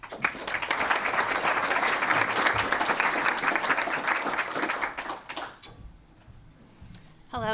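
A seated audience at a law school event breaks into sustained applause welcoming a guest speaker, steady and full for about five seconds before fading out, and a voice comes in at the end.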